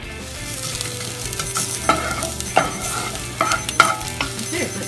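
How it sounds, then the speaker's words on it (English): Onion and garlic frying in a pan for homemade ketchup: a loud, steady sizzle up close, with sharp clinks and scrapes of a utensil stirring at irregular moments, no speech. "we're going to add the garlic and then stir it around for another 30 seconds"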